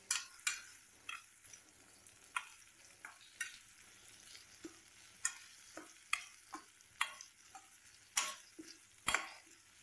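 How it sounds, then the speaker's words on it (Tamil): Tomatoes with salt sauté in a pan for a Tamil garlic tamarind gravy, with close, irregular stirring scrapes and clatters over a soft, steady sizzle and no talking. "தக்காளி வந்து மசிஞ்சு வர அளவுக்கு வதக்கி விடுங்க"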